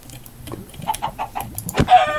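A Minecraft chicken clucks in a quick series of short, mid-pitched calls with a louder squawk near the end, standing alone over a faint game background.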